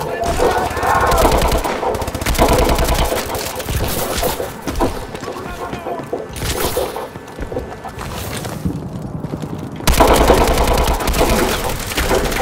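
Rapid automatic gunfire in Call of Duty Advanced Warfare, loud close rattling bursts that rise and fall across the clip, with a short quieter lull before a sharp renewed volley.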